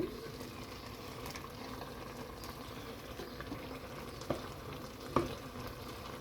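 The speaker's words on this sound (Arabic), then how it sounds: "تخليه تنقص له في الغاز وتخليه حتى لين البصل يسيب ماء كله" Chopped onions cook down in a pan on a gas stove for a Djerban fish chermoula with fried fish, giving a soft, steady sizzle and simmer with a couple of faint clinks of stirring and no talking.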